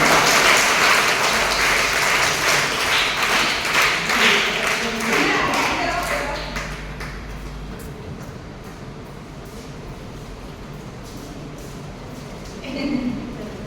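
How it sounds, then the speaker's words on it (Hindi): Children at a school workshop on a cleanliness campaign applaud together, a dense burst of clapping that fades after several seconds into quieter room noise and a brief final patter. "चलो तो उसके लिए ताली बजा दो एक बार"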